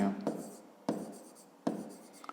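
Numbers are written on a board in a math lesson as three quick scratchy strokes at a steady pace, close and fairly quiet, with no talk.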